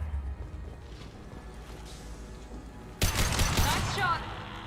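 Gunfire in the sci-fi shooter Mass Effect 2 starts partway through as a loud burst of rapid shots and crackling impacts, after a quieter stretch of ambient rumble and low voices.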